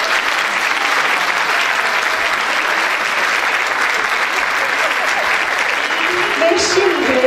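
A concert audience applauds a choir leaving the stage at a Turkish classical music concert, with dense, steady clapping lasting throughout and a few voices rising near the end.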